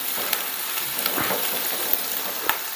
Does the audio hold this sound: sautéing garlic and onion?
yes